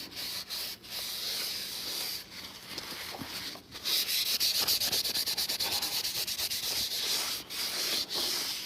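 Special preserving wax is rubbed onto watercolor paper in a dry, scratchy rubbing sound of repeated back-and-forth strokes, growing faster and denser partway through.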